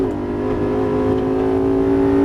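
A Lamborghini Gallardo LP550-2 Valentino Balboni engine revs steadily under load on a race track, a constant droning tone building slightly in loudness as it accelerates close by.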